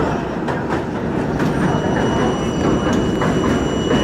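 An R32 subway car rides the J line in rain and a thunderstorm, giving a loud, continuous rumble with rhythmic clickety-clack wheel beats recurring about every half second, with no voices.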